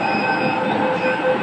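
Metro train on a city line heading toward Punjabi Bagh West, a steady loud rumble with a high, even whine of wheels on rails, heard from inside the carriage with no talking.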